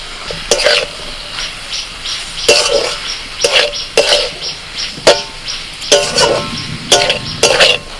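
Soybean chunks with vegetables and spices are stirred in a pan with a metal spatula, producing a close series of sharp clinks and scrapes in an irregular rhythm over a faint sizzle, with no voices.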